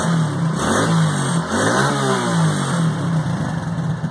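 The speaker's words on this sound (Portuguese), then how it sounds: "quem diria que a Pop ia dar 6 mil giros paradinha" A small Honda Pop motorcycle engine revving hard while standing still, climbing to high revs in a couple of rising sweeps near the microphone, then settling back to a rough idle.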